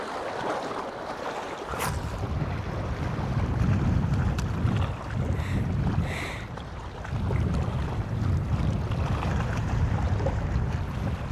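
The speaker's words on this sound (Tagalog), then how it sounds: "Lakas hangin mga kalampornas, lakas ng hangin." Strong wind roars across the microphone on a small boat out at sea in the early morning, a steady loud buffeting with swells and gusts and water washing beneath, and no voices.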